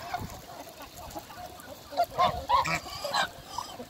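Several geese honk on a farm in a run of loud, overlapping calls near the end, with a murmur of other fowl behind and no talk.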